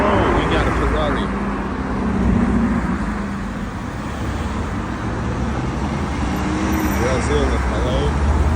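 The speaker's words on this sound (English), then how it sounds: "Whoa, we got a Ferrari." Moscow street traffic with a Ferrari driving among other vehicles, producing loud, steady road rumble and engine noise that swells slightly midway, with voices talking underneath.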